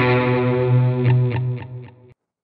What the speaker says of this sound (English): Delay and echo.